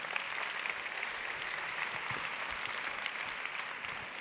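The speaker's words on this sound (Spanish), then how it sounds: "un aplauso para ella" Steady applause from a crowd at a magic show, dense clapping that holds evenly throughout without pause.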